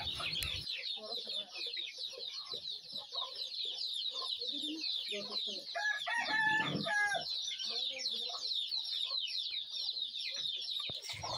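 Hens cluck and a rooster crows in a small poultry farm, a faint, busy chorus of calls with a crow near the middle and a person speaking quietly in the background.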